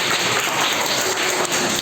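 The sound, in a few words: children clapping for themselves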